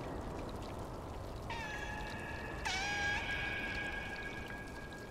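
A cat meows twice in the video game Stray, drawn-out tonal cries over a soft watery trickle in the background, the second cry louder and longer.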